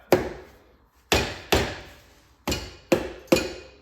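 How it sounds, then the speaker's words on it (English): A hammer strikes a Model A engine part during a teardown, six sharp metallic whacks in uneven rhythm, close and loud, each ringing briefly before the next, with no talking. "But I'm gonna whack it here."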